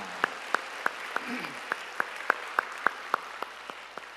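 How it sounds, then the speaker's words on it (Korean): A church congregation at a Sunday worship service claps together in a steady, even rhythm, about three claps per second, crisp and moderately close, with no talking over it. "우리의 찬양을 받으실 우리 주님께 영광의 박수 올리겠습니다"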